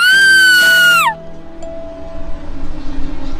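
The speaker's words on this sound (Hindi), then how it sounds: "जैसे ही उसकी आँख खुली वैसे उसके मुंह से चीख निकली।" A woman's high-pitched, drawn-out scream of fright, a horror-story effect, rings out loud for about a second, gliding downward before cutting off into low, rumbling background noise.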